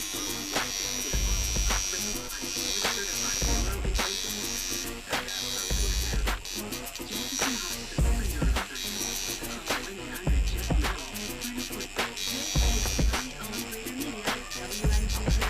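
A tattoo machine shading with a magnum needle gives a close, continuous electric buzz whose pitch and loudness dip in a repeated rhythm as passes start and stop.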